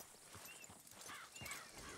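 Hoofbeats of a tamed horse in Red Dead Redemption 2, a steady clip-clop that carries on throughout over a busy ambient game backdrop.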